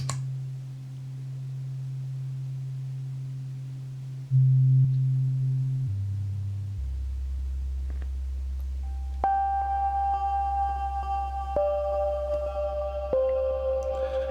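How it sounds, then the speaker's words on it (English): Electric guitar run through a Chase Bliss Mood MK2 pedal with reverb added, sustained low drones giving way to bright ringing tones that layer and shift in steps, smooth and continuous with no voices. "And now let's add the reverb."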